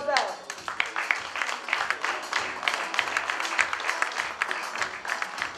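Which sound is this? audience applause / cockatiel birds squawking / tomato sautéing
audience applause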